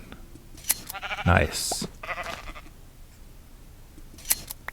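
A Minecraft sheep lets out a short bleat amid clicky shearing sounds while gathering wool, with a voice speaking briefly over the game sounds.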